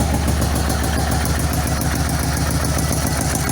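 A 1985 Yamaha Venture Royale motorcycle engine runs rough with the choke on, firing unevenly on one cylinder in a steady, loud, close lumpy idle with no talk.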